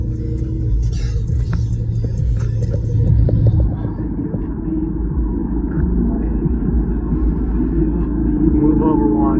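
A Porsche 918 supercar drives by among other sports cars on a road, a loud, rumbling engine roar swelling and fading, with people talking over it.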